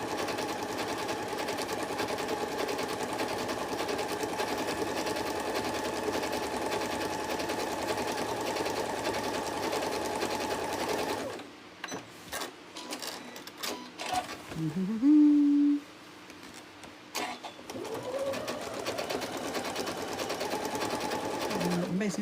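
Sewing machine stitching a trapunto cushion, running in a long steady buzzing burst, then stopping and restarting in short stuttering spurts with brief pauses and a rising whir.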